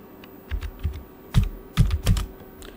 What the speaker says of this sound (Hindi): यहाँ पर आप लोग टाइप कर लो